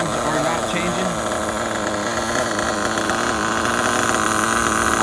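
A Losi 8ight RTR nitro truggy engine runs with a loud, steady, buzzy drone and a nearly constant pitch, close to the listener, with a person speaking over it.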